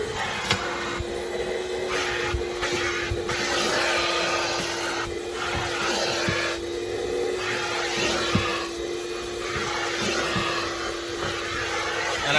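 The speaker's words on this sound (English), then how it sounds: "we're probably just gonna go ahead and dry vacuum everything" A vacuum cleaner dry-vacuums the interior carpets and floor mats of a Nissan Titan pickup truck, giving a steady, close whine with a constant hum and small surges as the nozzle moves.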